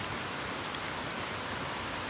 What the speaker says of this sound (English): Just wait for this rain.